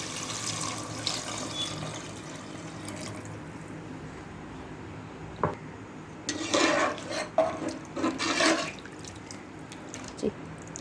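Coconut milk is poured into a pan of sautéed ingredients for coconut milk rice, a faint liquid splash and gurgle rising for a few seconds mid-clip over quiet kitchen background, with a light clink of cookware.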